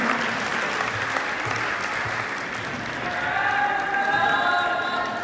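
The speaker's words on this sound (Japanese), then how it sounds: "皆様どうぞ大きな拍手でお迎えください。" Spectators at an amateur ballroom dance competition applaud steadily from a distance, a soft continuous patter as faint music begins to come through near the end.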